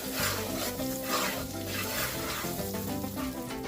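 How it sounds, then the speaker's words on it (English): Trinidadian curry duck simmering and sizzling in a pot, a steady frying hiss with occasional stirring scrapes, close and continuous with no talk. "Curry, let it cook for a while."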